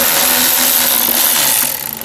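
A power tool whirs loudly up close for about two seconds as it loosens an aftermarket hose clamp with a 10 mm head on a twin-turbo car build, then tapers off with a few uneven pulses.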